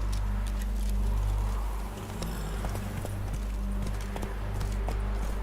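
Horse hooves clip-clopping at a steady trotting rhythm as a rider travels through an old village in a video game, fairly close and clear with no talk.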